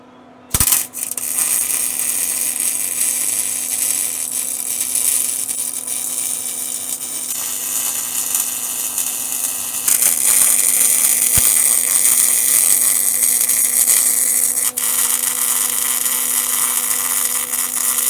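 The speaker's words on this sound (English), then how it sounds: "Let's go outside and weld her up on the outside first." Welding on a rotted frame rail of a Dodge Power Wagon outdoors, a loud, steady, crackling buzz that starts abruptly and runs continuously with small shifts in tone, close up, with no talking.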